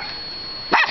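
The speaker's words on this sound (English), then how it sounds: "There's the bark." A dog gives one short, sharp bark near the end, loud and close, after a stretch of quiet background hum.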